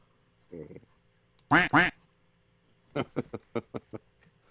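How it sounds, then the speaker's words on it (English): A cartoonish duck quack sound effect plays: a short call, then a loud double quack, then a quick run of five or six quacks, close and clear against a quiet background. "he always had the quack quack"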